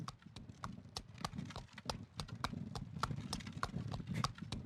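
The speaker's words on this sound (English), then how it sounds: "Whoa, I love that the horse's name is Rocinante." A horse's hooves clip-clop in a steady, even walking rhythm in the video game Traveller's Rest, sharp clear knocks repeating close by over a soft low background.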